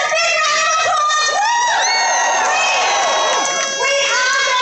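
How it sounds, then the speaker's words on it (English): A rally crowd outside NSW Parliament House cheers, whoops and shouts loudly and continuously, a dense wash of many voices with rising calls, heard close and sustained throughout. "Give yourselves a big round of applause."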